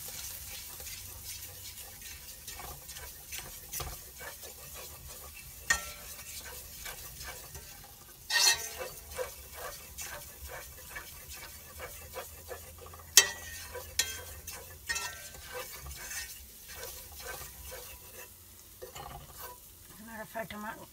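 Flour being stirred into hot oil in a pan for sausage gravy, a low continuous sizzle with repeated scraping strokes and a few sharper clinks of the utensil against the pan, fairly quiet with no talk.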